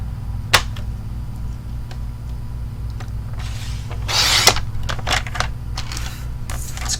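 A paper cutter trimming a card sentiment, heard as a few sharp clicks followed by a brief close slicing swish of the blade, set against a steady low hum and no talking.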